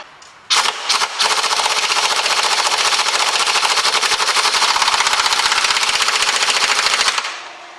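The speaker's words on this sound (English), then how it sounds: "Just wait for my compressor to turn off" An air compressor runs in a home garage during shock absorber work on a Fiat Doblo. It kicks in abruptly with a loud, rapid rattling hammer that holds steady for about seven seconds before cutting out.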